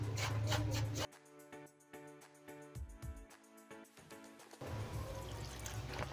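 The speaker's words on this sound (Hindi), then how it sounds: "पानी डाल लूँगी।" Water being poured into a bowl of pakora batter, heard as a brief liquid splash and trickle amid kitchen clatter and low background hum, with no speech.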